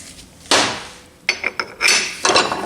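Metal bushing being driven into a 4R70 transmission pump with a large bushing driver and hammer, giving several sharp, close metallic strikes in an uneven rhythm with ringing decay between blows.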